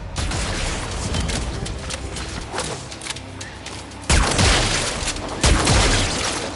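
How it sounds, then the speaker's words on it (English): Dense, loud battle noise from the video game Warframe: booming blasts and rapid crackling fire overlap continuously, with two sharper heavy hits near the end. "There should be useful detritus falling from the explosion."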